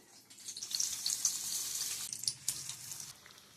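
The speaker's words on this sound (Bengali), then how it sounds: "এই টমেটো যখন ব্যাটারে কোট করা হবে আর গরম তেলে যখন ছাড়া হবে খুব সাবধানে করতে হবে, কারণ তেলটা প্রচন্ড গরম থাকবে" Batter-coated tomatoes dropped into very hot oil, a bright crackling hiss of deep frying that rises and holds steady for a few seconds, close and moderately quiet, with no one speaking.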